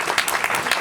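Brief burst of dense audience applause at a benefit speech, loud and close, with no voices over it.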